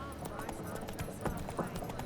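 Geralt's horse Roach galloping in The Witcher 3 video game, with rapid rhythmic hoof clops under game sound and someone talking.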